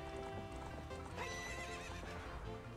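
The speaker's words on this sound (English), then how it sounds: "I believe I gotta ride this horse for a second" A Legend of Zelda horse neighs sharply mid-stride while its hooves clop in a steady rhythm, close and prominent, backed by continuous game music.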